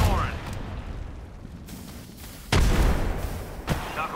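Frag grenade blasts in the video game Apex Legends land as sharp booming explosions, a loud one at about two and a half seconds among gunfire and rumbling battle noise.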